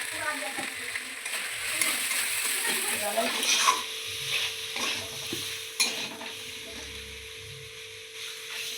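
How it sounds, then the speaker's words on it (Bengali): Spice masala with salt and turmeric frying in a pan as it is stirred, a continuous sizzle broken by scraping and clinking strokes of a spatula against the pan. "স্বাদ মতো লবণ, হলুদ গুঁড়ো দিয়ে ভালো করে মশলাটা কষিয়ে নেব।"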